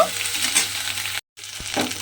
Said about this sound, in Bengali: এবারে ঢ্যাঁড়সগুলো দিয়ে একটু ভাজা ভাজা করে নেব।